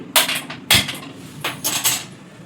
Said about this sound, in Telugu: ఇప్పుడు కళాయి పెట్టుకుని పొయ్యి అందించుకుని